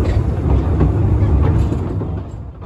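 A narrow gauge railway locomotive train, the Talyllyn Railway's number 4, rolls past nearby, a loud, steady rumble with faint rhythmic clatter that gradually fades toward the end.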